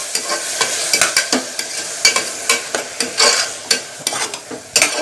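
Ground tomato sautéed in a pan for vada curry, with the spoon scraping and stirring in repeated bursts over a soft continuous sizzle, close and fairly loud, with no talking.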